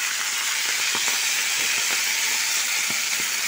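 Steady, loud sizzling hiss of spinach frying in a hot pan, with small crackles and pops scattered through it.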